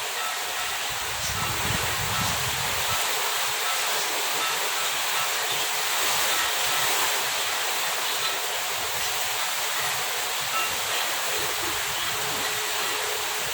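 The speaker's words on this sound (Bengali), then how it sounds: "অঝোরে বৃষ্টি যাচ্ছে, ঝড়, ঝোড়ো হাওয়া আর বৃষ্টি।" A constant roar of heavy rain and gusting wind continues without a break, dense and loud throughout.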